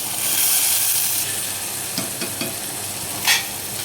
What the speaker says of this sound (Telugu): ఇప్పుడు మెంతం కూర వేసేసుకుంటున్నాను.